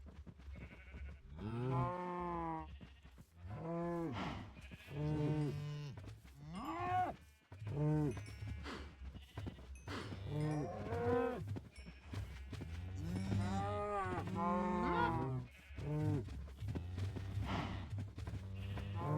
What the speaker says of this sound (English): I got so many cows now.